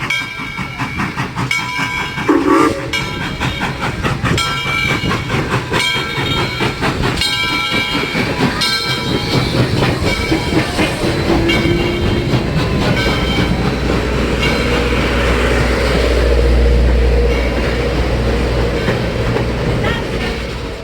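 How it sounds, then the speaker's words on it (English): A museum train pulls into a railroad depot in Chattanooga, Tennessee, its loud steady rumble and clattering wheels filling the space, with metallic squeals, hiss and a deep horn-like tone near the end; people talk faintly underneath. "Here comes our train."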